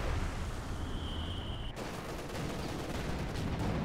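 Dense, continuous battlefield rumble of artillery fire and explosions in the World War II strategy game Company of Heroes 2, a steady loud wash of booms and distant gunfire with a brief high whine cutting out midway.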